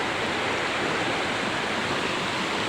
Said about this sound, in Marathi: ते बघा धबधबा बघ, एक छोटा धबधबा आणि तिकडं मोठा धबधबा आहे.